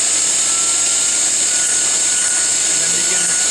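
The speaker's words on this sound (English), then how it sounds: "it'll bring the drill up to speed." Drill spindle of an LPKF Protomat C100HF PCB milling machine running at speed: a piercing high whine held steady over a constant airy extraction roar, close and loud throughout.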